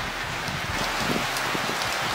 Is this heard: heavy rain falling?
yes